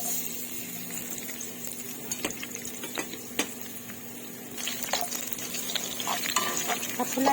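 Garlic sautéing in a pan while being stirred with a wooden ladle, a soft steady sizzle broken by scraping strokes and clicks against the pan, fairly quiet and close.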